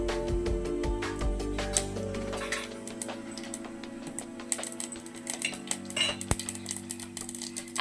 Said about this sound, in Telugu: ఆవాలు, జీలకర్ర, కొంచెం మెంతులు ఇందులో వేసేసుకొని చిటపటలాడాలి ఆవాలు.